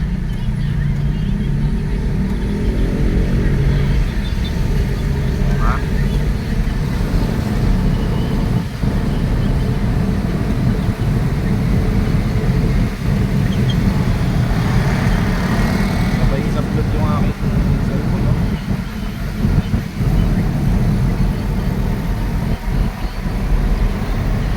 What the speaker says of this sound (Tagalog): Ito po ang sitwasyon ng traffic sa EDSA.